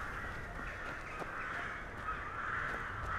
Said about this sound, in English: God, the crows are so noisy.